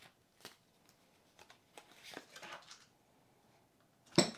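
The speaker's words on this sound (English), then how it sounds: "I think I'm going to shuffle again." Quiet riffling and soft tarot card flicks in short bursts, with a busier shuffling flurry in the middle and a sharper snap near the end.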